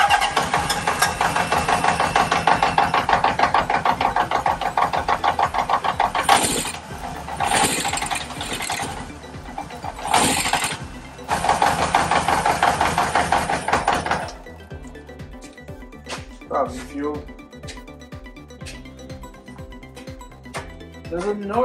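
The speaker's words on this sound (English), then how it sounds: "There's a noise coming from the torque converter side." A 1977 Honda CB750A Hondamatic motorcycle engine runs on choke with a noise from the torque converter side, chattering loudly and close with a few revs before shutting off, leaving scattered quieter sounds afterward.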